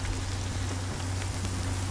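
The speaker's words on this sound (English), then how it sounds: "it's raining, we can collect water in the rain catcher" Rain falls steadily in the survival video game Sons of the Forest, an even hiss of drops over a low droning background, with no voices.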